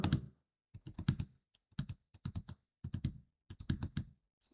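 Typing on a computer keyboard while entering slide text in PowerPoint, heard as close, crisp bursts of key clicks separated by short pauses.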